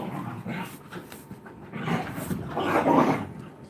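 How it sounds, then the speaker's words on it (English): Dogs scuffle at close range, their panting, whimpers and yips growing louder and rougher toward the end, with no speech over them. "Sorry, the dogs are fighting."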